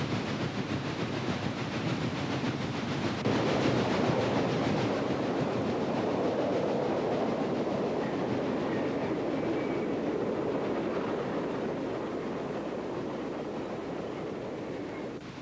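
Chesapeake and Ohio steam locomotives double-heading a train past the camera in 1951, a steady loud rumble and rolling clatter of wheels and cars, with faint hissing, continuing without pause and no voices.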